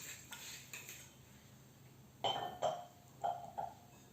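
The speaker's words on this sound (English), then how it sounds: "Mix the dough very well with along the butter." Utensils clink and scrape against a bowl while donut dough is mixed with butter and rum, with several distinct metallic taps in an irregular rhythm, close and fairly quiet.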